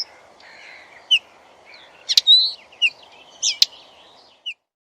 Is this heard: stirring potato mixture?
no